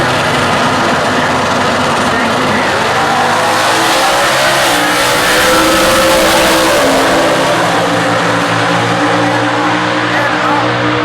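Supercharged 302 Factory Stock drag racing cars at the US Nationals, a loud sustained engine roar with a rising pitch through the run, blended with heavy track and crowd ambience and some background commentary.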